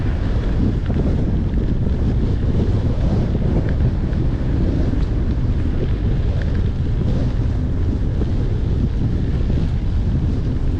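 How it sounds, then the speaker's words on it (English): A strong headwind roars against the microphone while bikepacking on the Colorado Trail, a continuous, loud, low buffeting rush with no letup. "Pretty good headwind right now."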